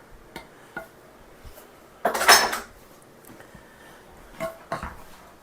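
Strawberry sorbet is scooped into popsicle molds: a few sparse light clinks and taps, then one louder scraping clatter of utensil against container, alone without talk.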